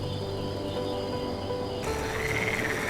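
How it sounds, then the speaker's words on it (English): Frogs and toads croak in a waterlogged forest on a rainy night, a dense chorus of steady calls with insects, the texture shifting partway through as a higher trilling call joins in. "frogs and toads awaken"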